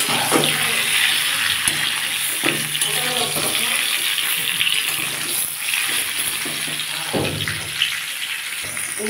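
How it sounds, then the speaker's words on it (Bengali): Mango pieces fry in hot oil with tempered whole spices for a Bengali mango pickle, giving a steady, close, bright sizzle with small pops and crackles throughout. "আমগুলো একটু ভেজে নেব।"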